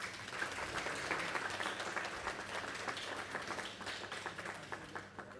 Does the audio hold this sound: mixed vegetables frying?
no